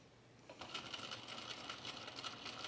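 A sewing machine stitches a dress waistband seam with its presser foot riding on the seam, giving a faint, steady, rapid mechanical ticking that runs evenly after a quiet start.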